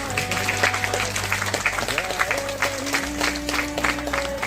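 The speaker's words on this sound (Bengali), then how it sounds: "একটু হাততালি।" An audience at a Kolkata international film festival award show claps steadily, the applause blended with background music and a voice.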